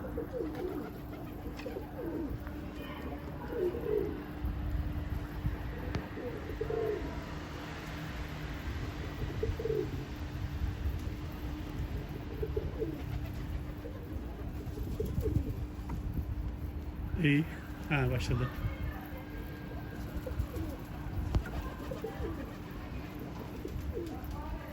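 Pigeons coo repeatedly in a steady outdoor background hum, with occasional wing flutters and a brief spoken remark.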